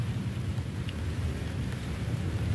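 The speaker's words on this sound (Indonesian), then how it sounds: "Teman-teman, udah mau hujan." Steady rain with low thunder rumbling as a storm approaches outdoors, a continuous wash of heavy rainfall under a deep, constant rumble with no speech.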